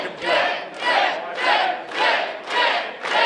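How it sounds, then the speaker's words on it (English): A crowd at a live professional wrestling show chants in a loud, rhythmic pattern, six swelling pulses rising and falling at an even pace, with no single voice standing out. "Here the crowd solidly behind Jet Royal"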